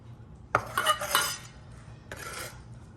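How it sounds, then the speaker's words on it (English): Chopped sweet onion is scraped and tipped into a bowl, giving a sharp clink followed by a cluster of scraping and clattering knocks, a brief pause, then a softer second scrape. "I'm going to transfer them to this bowl so it's easy to put it in a pot."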